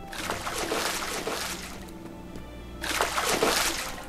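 Water is poured from a bucket in the Guild Wars 2 video game, heard as two separate splashing bursts with a quieter sloshing gap between them, close and moderately loud.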